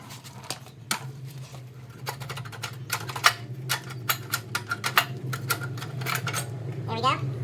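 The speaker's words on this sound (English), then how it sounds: "That's the old style ratcheting starter" An old-style ratcheting recoil starter on a trash-picked 1994 Murray lawnmower clicks and rattles in a fast run of sharp ticks over a low steady hum, close by, with a brief voice near the end.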